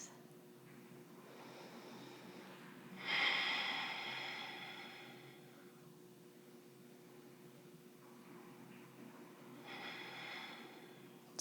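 Slow, deliberate breaths during a calm grounding exercise, a soft audible inhale-exhale swelling around the third second and another near the tenth, quiet and close over a faint steady hum.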